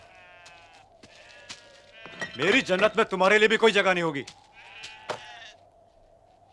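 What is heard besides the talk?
sheep bleating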